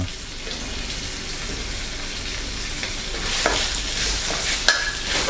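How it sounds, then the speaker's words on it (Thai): Fingerroot stir-fried with curry paste in a pan for a spicy catfish dish, a continuous sizzle with occasional utensil scrapes and clinks that grows slightly louder toward the end, with no voices. "ผมจะนำกระชายลงผัดกับพริกแกง"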